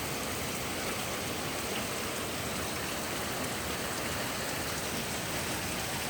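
A downpour of pouring rain keeps up a thick, unbroken wash of drumming drops, steady in level and close by, with no speech over it.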